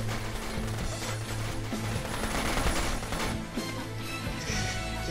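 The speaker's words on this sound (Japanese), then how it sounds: "右からショットガンの音が聞こえる。" Dense, continuous gunfire from the online shooter Paperman, including shotgun blasts, crackles at a steady loud level throughout with no pauses.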